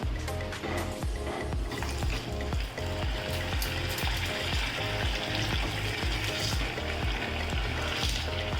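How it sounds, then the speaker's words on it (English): Chicken cheese balls sizzle and crackle in hot oil, a continuous dense frying hiss with steady bubbling, close and loud, alone without voices. "Don't have to do too much of frying, you just have to keep rotating it till the balls become red."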